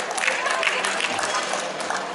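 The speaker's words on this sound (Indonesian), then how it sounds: "Oke, tepuk tangan buat kita semua ya." Seminar audience applauding together in a hall, a dense, even burst of many hands clapping, loud and close, with no voices over it.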